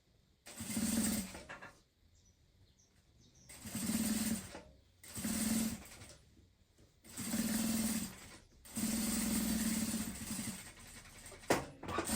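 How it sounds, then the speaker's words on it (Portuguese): A sewing machine stitches a fabric pencil case in five close, loud runs of rapid whirring, each a second or two long, separated by quiet pauses and with no talk. "acabamos de fazer essa costura aqui"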